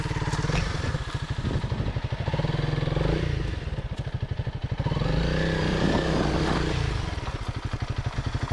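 A Honda CRF300L Rally motorcycle engine chugs and revs unevenly as it crosses a rocky creek, close and loud with steady low pulsing and some clatter, no voices heard.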